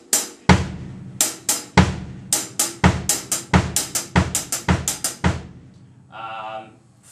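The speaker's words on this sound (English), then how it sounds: "If I played on the hi-hat it would sound like this." A linear drum pattern with the right hand on the hi-hat alternating with bass drum and snare, one voice at a time, in crisp, close strikes in a steady groove, with a short spoken bit near the end.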